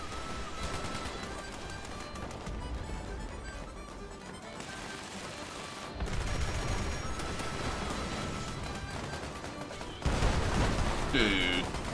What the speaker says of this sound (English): those explosions are so ridiculous.